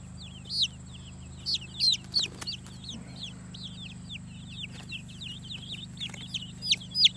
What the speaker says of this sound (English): Here's a barred rock. Get the other barred rock out here.